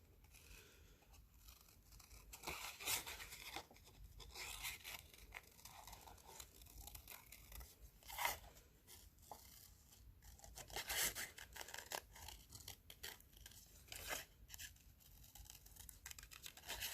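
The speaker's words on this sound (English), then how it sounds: "Once I have my shape, then I'm going to cut it out." Scissors cutting out a paper shape: faint, irregular snips and crinkly paper rustles close by, with sharper cuts scattered through a quiet room and no talk.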